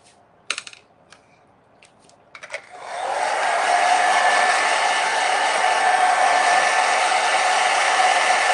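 A hair dryer dries watercolor paint on a grapes painting. A few sharp clicks and taps come first, then the dryer starts and runs as a steady, loud, close whoosh to the end.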